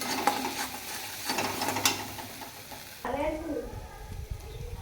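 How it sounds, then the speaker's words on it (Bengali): Cumin and coriander powder being stirred in a frying pan for potato curry, a scraping, rattling stir over soft sizzle, louder and busier in the first half before easing into a lighter stir. "জিরার গুঁড়ো, ধনের গুঁড়ো দিয়ে ভালো করে আমি নেড়ে চেড়ে নেব।"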